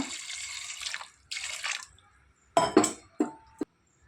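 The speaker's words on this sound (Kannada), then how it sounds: "ನೀರು ಹಾಕುವ." Water poured into a pressure cooker holding white kabuli chickpeas, a clear splashing pour near the mic for about two seconds, then a few sharp clinks of metal and glass, with no talk.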